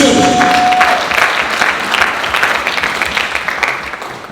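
A church congregation claps together in a warm, dense burst of applause that holds steady for several seconds before easing slightly, close and full.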